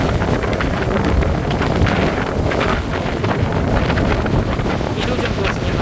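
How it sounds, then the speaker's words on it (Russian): Strong wind blows on the Black Sea shore in Crimea, a loud continuous roar buffeting the microphone, with rough surf and waves washing underneath throughout. "Смотрите, какие ветер усилился, прям усилился."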